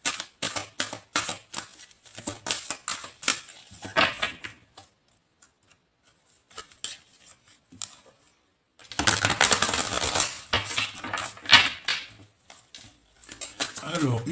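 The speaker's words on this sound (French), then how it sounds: "Hop, je vais les touiller un petit peu et on y va." Tarot cards shuffled by hand in bursts of dense, rapid riffling and clattering, loud and close, with a quiet pause in the middle and a longer stretch of shuffling toward the end.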